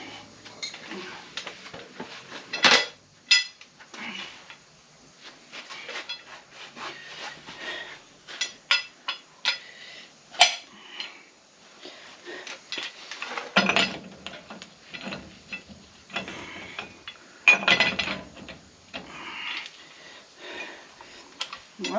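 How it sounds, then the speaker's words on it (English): Metal scraping, knocking and rubbing as the hub comes off a Dana 70 axle on a 1971 Ford F350 dually, with irregular close clanks and grinding bursts, no talk. "Get it pulled off and then pull the hub off."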